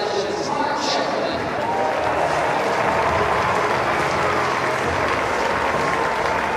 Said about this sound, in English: Warm applause all around the ground.